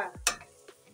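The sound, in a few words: stirring Kenyan githeri in a pot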